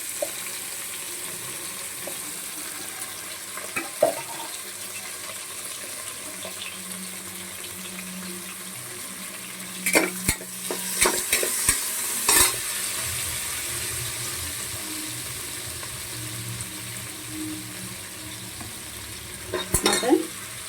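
Ginger stirred into mutton biryani masala frying in a pan, with a low steady sizzle beneath occasional clinks and scrapes of the spoon, busiest in a brief burst midway and again at the end.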